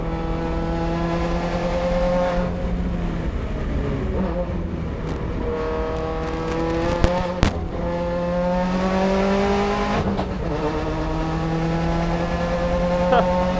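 A Subaru time attack race car drives through a sweeping corner at Buttonwillow Raceway in California, its engine holding a loud, steady droning note with shifting pitch, a few sharp clacks and brief spikes along the way.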